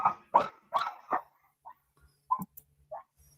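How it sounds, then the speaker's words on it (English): Several sharp barks from dogs at home acting as alarm dogs, a quick run of loud close barks followed by fainter, more scattered yips, with no talking. "My dogs are good alarm dogs."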